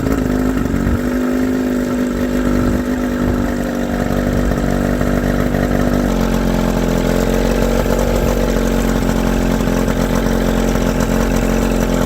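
Outboard motor, choked, starts and settles into a steady, loud idle that runs unbroken, with a rough low-end throb under a constant mechanical hum.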